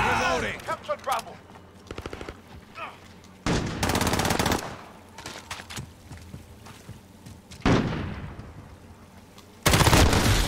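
Gunfire crackles through a Modern Warfare match on the Hovec Sawmill map, with sharp automatic bursts and single shots arriving in uneven clusters, some close and loud, others quieter, while in-game voices call out between volleys.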